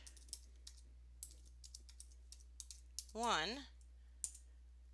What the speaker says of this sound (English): I'll need to go back to my terminal and type in finger touch